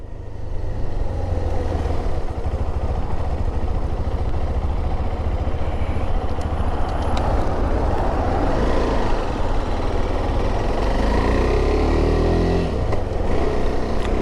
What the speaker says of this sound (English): It's got an interesting sound, obviously, with that single cylinder.